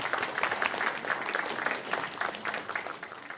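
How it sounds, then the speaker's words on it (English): An audience claps after a song and dance performance, the applause rising strongly then gradually thinning and fading toward the end, with individual claps pulsing through the texture. "Let's give them another round of applause"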